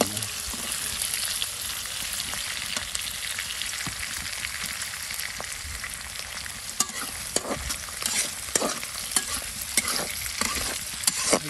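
Shrimp stir-fry in a hot pan with salt, green chili, turmeric and chili powder: a steady loud sizzle fills the scene while a utensil scrapes and taps the pan in irregular strokes, close and with no talk.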